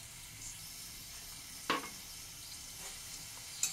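Bottle gourd greens stirred in a pan with a little added water give a low, steady sizzle, broken by one sharp utensil scrape near the middle and another faint one at the end.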